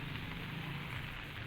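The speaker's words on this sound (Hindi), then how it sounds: "लगातार बारिश हो रही है।" Heavy rain falling without pause at five in the morning, a dense, even roar of drops hitting surfaces, loud and unbroken, with no voices.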